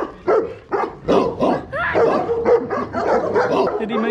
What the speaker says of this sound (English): He's a big boy. A big boy. With a deep bark.